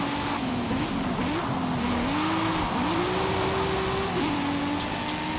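A car slides through corners on a wet track in the Forza Horizon 5 racing game, its engine pitch wavering up and down over a constant hiss of spray and tire noise, loud and continuous.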